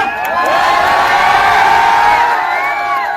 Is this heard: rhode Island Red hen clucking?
no